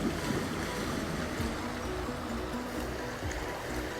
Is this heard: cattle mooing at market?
no